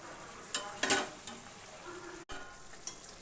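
Mourala fish in a spicy oil curry bubbles and sizzles quietly in a pan, a faint close hiss with a few sharp spatula scrapes and clinks and a brief gap of near silence.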